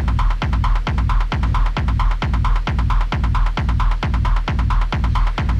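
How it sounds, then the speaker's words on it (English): Arduino-based drum machine playing a steady looped pattern with punchy low kicks and open hi-hats ringing between beats, loud and even at a regular tempo, with no voices. "I can't resist putting on open hats."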